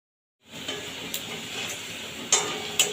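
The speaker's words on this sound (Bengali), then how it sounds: "এবার ঢাকা দিয়ে দিয়ে আলুটাকে লাল লাল করে ভেজে নেবো" Potatoes fry in oil in a covered pan, giving a steady, soft sizzle with a few sharp ticks and pops near the end and no voices.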